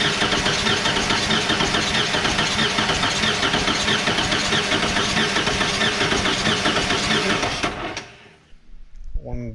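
Starter cranking a 351W stock-block 408 stroker engine for a cylinder compression test, a loud, fast, even rhythmic churning that runs steadily for about eight seconds, then cuts off abruptly into near silence.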